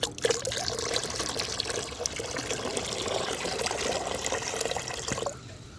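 Liquid plant fertilizer is poured into a mug of plain water and mixed, a continuous splashing trickle and swirl close by that stops abruptly near the end.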